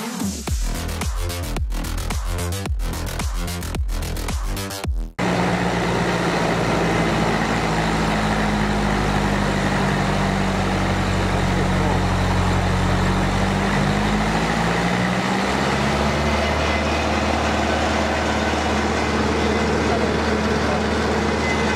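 Ursus 902 tractor engine running on a dynamometer, a loud steady diesel drone with a low rumble that shifts pitch partway through and settles lower near the end, preceded by a few seconds of rhythmic pulsing.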